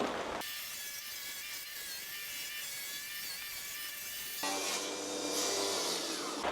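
Wood being cut with a power tool for a DIY door frame in a house under renovation, a steady whirring cut that then shifts into a higher, harsher tone near the end, loud and close, with no talking.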